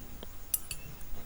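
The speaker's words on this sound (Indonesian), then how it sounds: "Kita ambil dengan sendok, ambil bunganya sampai bersih. Ini diambil menggunakan sendok." A metal spoon scoops starfruit flowers out of a tea strainer of flower and rock-sugar syrup, giving a few faint, sparse clinks and taps close by.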